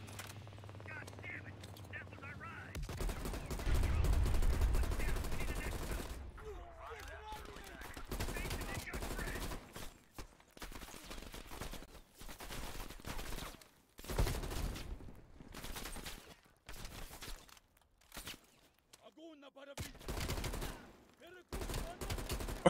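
Heavy automatic gunfire in the Call of Duty Black Ops Cold War video game, bursts of shots and machine-gun fire coming in irregular clusters at low overall volume, with intermittent gaps of quiet.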